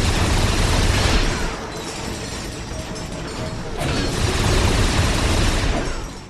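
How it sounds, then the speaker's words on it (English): Rapid rattling gunfire in Ratchet and Clank Future: A Crack in Time, loud mechanical bursts that run continuously, dip briefly, then surge back; no voices over it. "What is shooting at me?"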